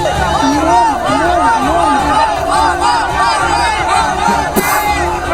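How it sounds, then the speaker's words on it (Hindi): Crowd of supporters loudly chanting "Mama Mama" slogans after stopping Shivraj Singh Chouhan's convoy outside the ceremony venue, rhythmic shouted chant repeating steadily over dense crowd noise. "उनके समर्थकों ने उनका काफिला रोक लिया और मामा मामा के जोरदार नारे लगाए"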